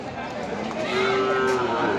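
A short low bovine call sounds through busy outdoor crowd noise and chatter at a crowded cattle market selling young bulls and heifer calves.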